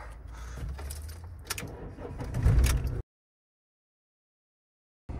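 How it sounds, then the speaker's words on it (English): Keys jangle close by as a van's engine cranks and catches with a brief rising rev, then the sound cuts out to silence. "I'm gonna start the van up just to give it some juice"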